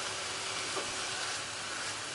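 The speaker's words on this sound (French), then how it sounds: "Je mets du coup les poireaux avec de l'huile, des pépins de raisin comme d'habitude pour faire chauffer." Leeks heating in grapeseed oil in a pan give off a steady, soft sizzling hiss that stays even and close throughout, with no voices.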